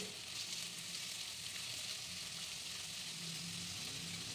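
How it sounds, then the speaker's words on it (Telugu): Chopped onions frying in hot oil in a pan for a mushroom, pea and potato curry, giving a faint, even sizzle that hisses steadily throughout with no breaks. "ఆనియన్స్ బాగా వేయించుకోవాలి"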